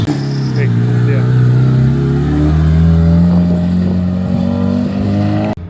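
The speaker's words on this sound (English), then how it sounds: "We also have Andrew's badass EG Civic built all-wheel drive turbo about to leave." A turbocharged all-wheel-drive Honda EG Civic engine revs loudly as the car pulls away from a car meet, its drone rising and holding steady before cutting off abruptly.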